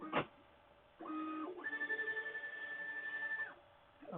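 A 3D printer on a Jubilee tool-changer build starts a print, with a steady motor hum and tonal stepper whine that rises and holds, sharp clicks at the start and end, moderately loud and alone.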